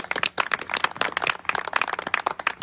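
A church congregation claps in quick, dense bursts, steady applause filling the short stretch without any talking.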